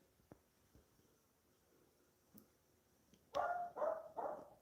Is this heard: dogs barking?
yes